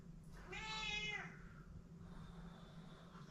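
A cat meows once, a drawn-out harmonic cry rising and falling over about a second, fairly close and clear against a steady low background hum, then quieter room noise follows.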